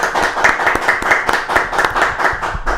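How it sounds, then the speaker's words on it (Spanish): Audience applause welcoming a doctor onto a Spanish-language talk show, loud rhythmic clapping with distinct beats, close and continuous. "un fortísimo aplauso para recibirlo"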